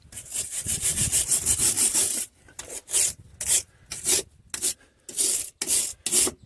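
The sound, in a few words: scrubbing threads of a bolt clean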